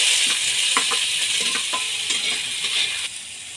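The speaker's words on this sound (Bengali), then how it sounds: "এবার ওই তেলের মধ্যে আমি বেগুন দিয়ে দেবো" Eggplant pieces fry in hot mustard oil in a wok, a constant close sizzle broken by repeated stirring scrapes and light utensil knocks, with no voices.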